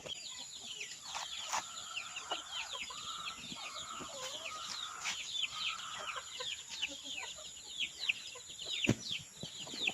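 Rhode Island chickens cluck steadily while pecking at ripe pineapple, many soft overlapping calls and chirps at moderate distance over faint background, with a few sharp knocks.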